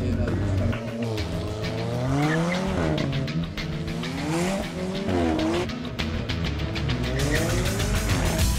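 An Alfa Romeo 4C Spider at a hillclimb launching and accelerating hard, its engine note climbing and dropping through repeated upshifts with tire squeal, loud and close, ending in a fainter pass.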